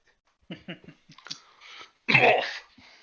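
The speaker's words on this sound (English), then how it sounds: "Was that an in-game Cough?" A single harsh, cough-like burst stands out after a few soft clicks and faint voice sounds, fairly close and loud.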